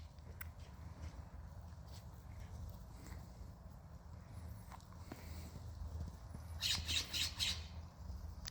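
A small bird chirps in a garden tree as backyard chickens chase it, with a short, bright burst of chirps near the end over steady outdoor rustling and shuffling steps.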